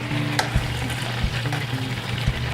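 Chicken pieces brown in a hot skillet, giving a steady close crackling sizzle with small pops and a few scraping clicks of a utensil against the pan.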